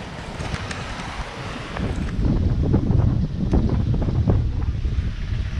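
Strong wind roars across the microphone on a small fishing boat at sea off Occidental Mindoro, a steady dense rush that swells louder after the first two seconds, with faint water and hull sounds beneath.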